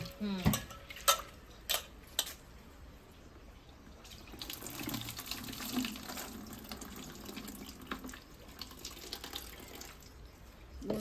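Shind vegetable leaves being washed in water at a kitchen sink, with running water and splashing, sharp clatters near the start, and steady rinsing throughout.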